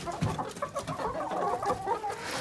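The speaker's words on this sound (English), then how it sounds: "Darn chickens." Chickens clucking continuously in a backyard flock, a busy overlapping chatter of close, moderately loud clucks with no talking.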